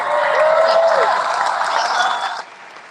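Dense, steady applause from a large audience at the Dreamforce keynote, holding loud for a couple of seconds before cutting off abruptly into quiet.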